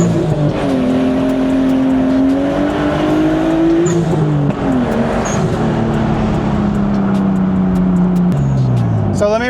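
Nissan Skyline R34 GTT engine pulls loudly from inside the car, its pitch climbing and dropping across several gear changes in a continuous, close rumble.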